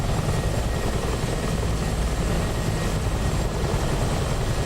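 A helicopter in a multiplayer video game gives a continuous, steady rotor and engine drone, loud and even throughout with no talk over it.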